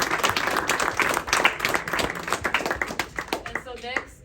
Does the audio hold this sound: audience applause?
yes